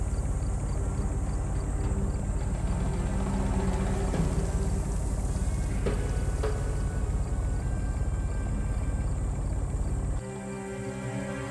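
A diesel pump engine chugs in the Secret Files 3 video game, a steady, dense low mechanical rumble that keeps running and drops suddenly near the end.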